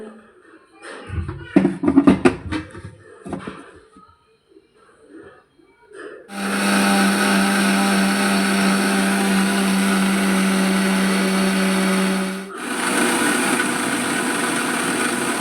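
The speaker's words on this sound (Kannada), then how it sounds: "ಒಂದು ಮಿಕ್ಸಿ ಜಾರ್ಗೆ ಕೆನೆಯನ್ನು ಹಾಕಿಕೊಂಡು ಇದನ್ನು ಚೆನ್ನಾಗಿ ಮಿಕ್ಸಿಯಲ್ಲಿ ಹಾಕಿ ಗ್ರೈಂಡ್ ಮಾಡಿಕೊಳ್ಳೋಣ" A kitchen mixer grinder churning cream into butter starts up after a few seconds of faint handling noise, then whirs loudly and steadily, cuts out briefly and starts again.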